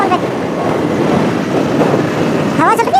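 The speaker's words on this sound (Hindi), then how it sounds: "हवा चल रही है, स्पीड तेज़ है" Strong wind rushes and roars against the microphone continuously while riding a KTM motorcycle at about 60, with a faint high squeak near the end.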